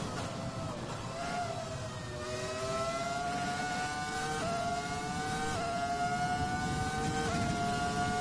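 A Ferrari F2004 Formula One car engine in a racing video game, a loud, high-pitched whine that climbs steadily in pitch, dropping sharply at each gear change before rising again.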